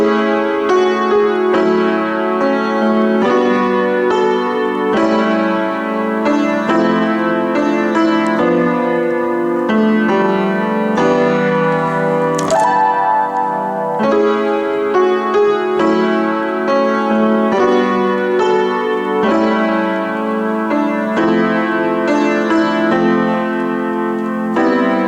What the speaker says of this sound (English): So once all the way through your bridge, your right hand is going to sound like this.